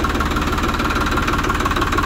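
A new Farmtrac tractor's diesel engine idles close by, a loud, even, rapid knocking throb that runs steadily without any change in speed.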